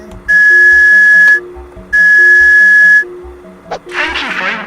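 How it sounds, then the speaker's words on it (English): A whistle blown in the video game JazzPunk gives two sustained shrill blasts of about a second each, loud and close, followed by a short burst of rustling noise. "Oh, it's a whistle."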